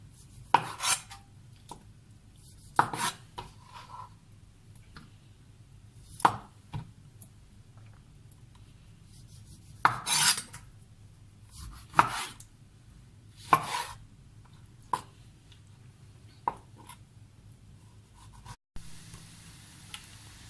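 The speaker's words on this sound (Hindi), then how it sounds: "ऊपर से छिलका उतार लेना छुरी से" A knife slicing the peel off oranges for homemade marmalade, with scattered crisp cuts and scrapes at irregular intervals over a quiet background.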